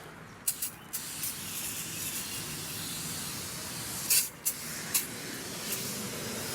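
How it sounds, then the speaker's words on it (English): Foaming aerosol degreaser is sprayed onto car wheels in a long steady hiss, broken by a few short pauses and brief nozzle bursts, close and fairly quiet with no talking. "One thing I like about the aerosol as well is it covers everything really nicely."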